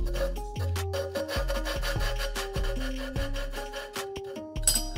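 A valve spring seat being ground down by hand on an LS 317 cylinder head, a repeated rhythmic rasping and scraping with low thuds, close and steady throughout without talk.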